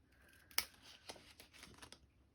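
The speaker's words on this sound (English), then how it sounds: "So I just usually take my little scissors." Small scissors snip paper for an album, one sharp close cut followed by several softer, scattered snips in a quiet room.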